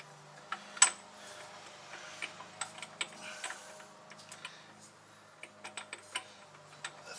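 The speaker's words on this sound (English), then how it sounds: "so socket straight on the ratchet" A socket ratchet clicks in short bursts of quick ticks while turning the harmonic balancer bolt on an RB25DET engine, close by and fairly quiet, with a low hum beneath.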